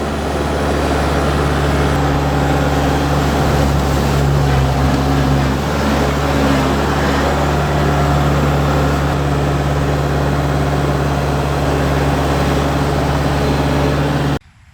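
A Kubota tractor fitted with a snorkel drives through water, its engine a loud, steady droning hum with constant churning noise over the whole stretch, ending abruptly.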